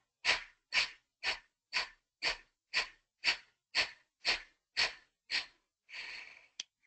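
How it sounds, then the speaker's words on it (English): Close, audible breaths through the mouth during a guided breathing exercise: about eleven short, evenly spaced breaths, followed by one longer, softer exhale, with no talk. "So you breathe in and you exhale through your mouth."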